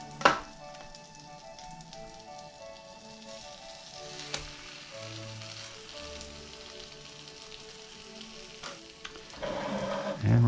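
Stuffed French toast slices fry in a hot pan, a continuous close sizzle with scattered sharp pops and crackles, growing louder and busier near the end, with no voices.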